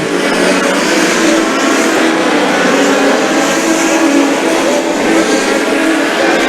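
US Legend Cars race side by side at Riverhead Raceway, their engines merging into a loud, steady, dense roar that holds without a break throughout.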